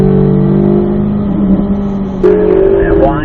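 A car engine on a race track revs hard in third gear, a loud steady drone climbing in pitch, then a brief shift and the revs build again, close and continuous.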